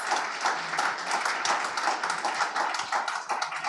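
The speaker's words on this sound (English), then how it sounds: "one more big applause for Interreg and all our projects" Audience applause at the close of a Green Governance Day event, a dense, steady wash of many hands clapping that holds fairly loud throughout without a break.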